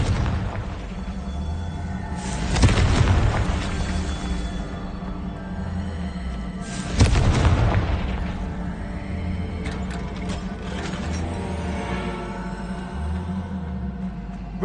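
Confringo fire spell blasts in Hogwarts Legacy, two heavy booming explosions a few seconds apart over a constant rumbling game soundscape with crackling bursts and debris.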